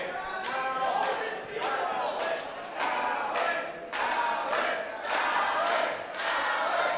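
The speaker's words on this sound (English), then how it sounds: "getting the crowd to chant for Alan Angels" A wrestling crowd chants for Alan Angels in a rhythmic call, with regular loud bursts of voices roughly every half second to second, full and reverberant in an arena, with occasional thuds.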